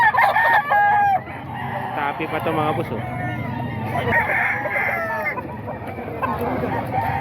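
Fighting roosters crow and cluck nearby, several calls overlapping, while someone talks over them.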